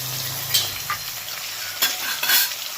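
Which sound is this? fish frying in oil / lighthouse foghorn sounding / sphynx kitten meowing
fish frying in oil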